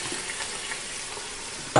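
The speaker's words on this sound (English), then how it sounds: "And what you want to do now is stir it all up where all of it's being cooked, not just the meat." Vegetables and meat (celery, carrots, apple) being stirred and fried in a pot, giving a steady soft sizzle throughout and a brief louder scrape of the stirring utensil at the very end.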